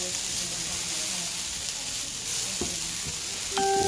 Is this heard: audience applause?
no